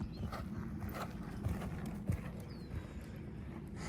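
Horse in a stretchy canter under saddle during a saddle fitting, rhythmic hoofbeats thudding steadily across the clip, fairly faint against a broad background rumble, with no talk.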